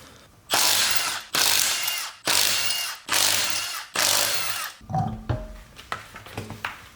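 A hand ratchet tightening the bolts on a newly installed car motor mount, five long even cranking bursts with short pauses between, followed by softer, shorter clicks and taps, close and clear.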